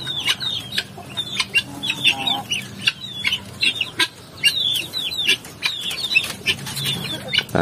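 Native chickens and three-day-old chicks on a farm, high peeping chirps from the chicks mixed with lower clucks from the hens, busy and close, with a brief flutter of wings in places.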